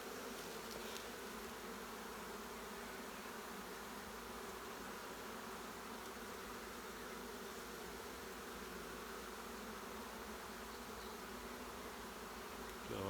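A honey bee swarm buzzes steadily and densely throughout, a continuous close drone with no pauses and no voices, as the bees are being coaxed and caught.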